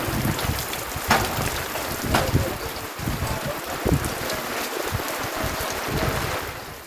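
Steady rain falling outdoors during a September downpour in Bangladesh, a dense continuous wash of drops with a few louder splashes, fairly close and sustained throughout.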